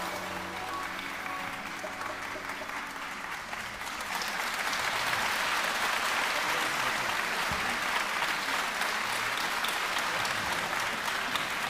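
Sustained applause from a concert audience at a tribute show, steady and dense throughout, swelling louder about four seconds in after a trumpet solo and holding full to the end.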